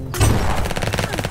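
Shotgun fire in a shooter video game: a heavy boom followed by a rapid, evenly spaced burst of loud shots, close and dense, with no voices over it.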